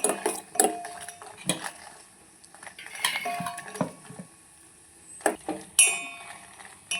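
Raw tamarinds frying in oil in a pan: a spatula clinks and scrapes against the metal in irregular strokes, with light sizzling underneath, fairly close and moderately quiet.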